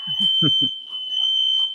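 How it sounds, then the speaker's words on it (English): An indoor fire alarm sounding a steady high-pitched electronic tone throughout, with a person talking briefly over it. "my fire alarm is going off"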